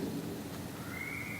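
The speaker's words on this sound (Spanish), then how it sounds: "una grande lluvia suena." Heavy rain pours steadily with a low rumble of thunder underneath, a continuous wash of noise, with a faint rising whistle-like tone near the end.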